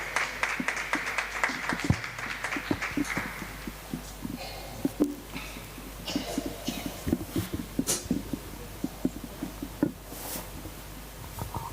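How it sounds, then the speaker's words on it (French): A church congregation at a Sunday service claps in a steady, fairly close burst of many hands. The clapping sounds as a dense patter of sharp hits with a roughly rhythmic pulse, and it carries on throughout. "On acclame."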